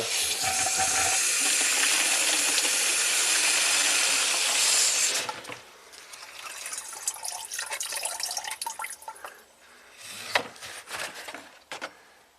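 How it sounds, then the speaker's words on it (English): Loud, steady rushing water hisses through a hose back-flushing a leaking 2010 Subaru Tribeca H6 heater core for several seconds, then cuts off, leaving trickling, dripping and a few clunks. "So we're going to back flush the heater core"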